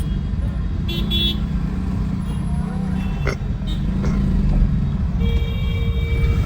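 Road traffic rumbles while car horns toot in short bursts, once near the start and again with a longer blast at the end; people talk underneath.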